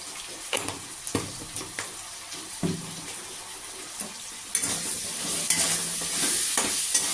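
Stirring scrapes and knocks from a spoon working banana flower and prawn curry in a pan, with an ongoing sizzle underneath and sharper clatters now and then, close and moderately loud, no talk.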